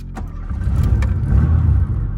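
A Tofaş car's engine turns over and settles into a steady low rumble, heard from inside the car, with a brief click at the start and no talk.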